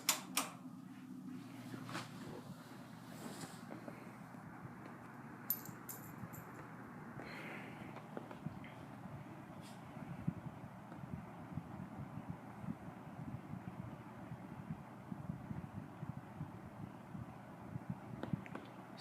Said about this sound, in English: It's got the quietest low I've ever seen on a box fan.